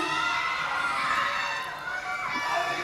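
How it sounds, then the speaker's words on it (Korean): Dense crowd cheering and shouting at a red carpet event for Japanese voice actors visiting Korea for an anime film premiere, a steady roar of many voices with high excited screams, fairly loud throughout. "もうものすごい歓声ですよ。"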